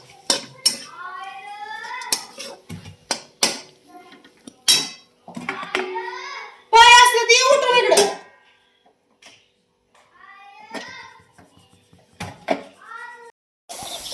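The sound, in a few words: stirring vegetables in a cooking pan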